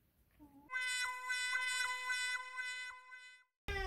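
A cat lets out one long, drawn-out meow close by, clear and sustained for nearly three seconds, after a short, faint chirp and before a sudden noise at the end.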